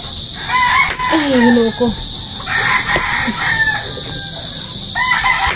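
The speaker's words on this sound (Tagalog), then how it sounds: "Manok gihapon to ang suras." Chickens on a rural Bisaya farm: a rooster crows loudly close by, then more crowing and clucking follow in bursts, with a brief spoken exclamation mixed in.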